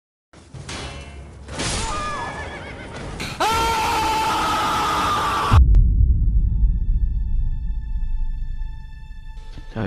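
A horse in the video game Elden Ring whinnies loudly in a drawn-out, wavering neigh, followed by a steady low hum and rumble that continues on its own.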